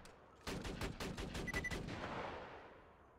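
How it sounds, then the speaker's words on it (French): Machine gun fire in the video game Borderlands 2: a quick burst of about eight rapid shots over roughly a second and a half, followed by a fading reverberant tail, fairly quiet in the mix. "On sort les mitrailleuses."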